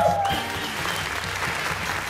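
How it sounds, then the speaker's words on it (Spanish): Studio audience applause on a Spanish-language comedy talk show as two guests are introduced, a brisk burst of clapping that fills the clip over a faint background tone. "¡Un aplauso, señoras y señores!"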